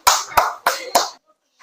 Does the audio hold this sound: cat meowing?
no